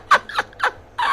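A chicken calling in a quick series of four short, clucking squawks within about a second, fairly close and clear with no talking.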